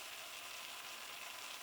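Sodium percarbonate oxygen bleach fizzes inside a teapot, a steady, faint, hissing crackle of tiny bubbles that holds without a break and with no one talking.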